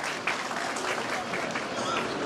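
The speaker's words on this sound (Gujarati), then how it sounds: "એકવાર જોરદાર તાળીના ગણતાથી વધાવીશું." A crowd applauds at a community honour ceremony, steady moderately loud clapping with no pause for its short length.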